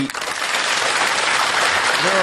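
Applause sound effect played for a Q&A segment: a short, dense burst of many hands clapping, loud and close, with a trace of voice just at the end.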